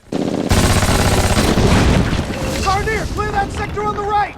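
Dense battle-scene gunfire from the Band of Brothers series, rolling rifle and machine-gun bursts with booms, followed by shouting voices over the continuing fire.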